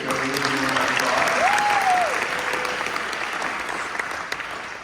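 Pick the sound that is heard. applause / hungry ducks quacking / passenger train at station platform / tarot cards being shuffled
applause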